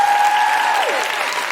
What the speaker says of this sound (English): A big round of applause to Carys Afoko